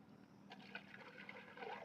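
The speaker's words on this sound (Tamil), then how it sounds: "1 லிட்டர் தண்ணியை இதில் ஊற்ற போகிறோம்" Water pours and splashes into a half-litre container in a brief, steady gurgling stream, fairly quiet.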